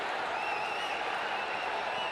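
A cricket stadium crowd at an India versus Sri Lanka Asia Cup 2025 super over cheers in a continuous, dense roar that stays steady throughout, loud and unbroken.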